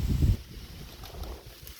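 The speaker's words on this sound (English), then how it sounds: "obviously you can tell it's windy today." Wind gusts outdoors on a windy day, a loud rumbling buffet against the microphone at first, then settling into a steadier low roar.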